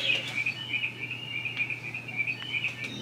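Little birds chirp from a baby sound machine's bird setting: quiet, repeated high trills that carry on steadily over a low electrical hum.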